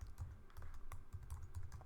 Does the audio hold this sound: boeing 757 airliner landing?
no